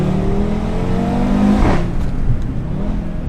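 An Audi RS3 pulls hard under acceleration: a loud, close engine note climbs steadily in pitch, peaks and drops sharply at a shift, then settles into a lower drone, with no talking.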